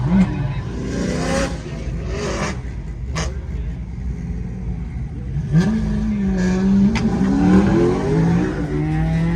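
A minivan at a drag strip at the Freedom Factory revs its engine loudly and accelerates, the engine note climbing in pitch over a constant road-noise roar.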